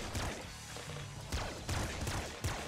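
Laser weapon shots in the roguelike game Nuclear Throne, several sharp bursts with crashing impacts spaced through a busy game soundscape, loud and close.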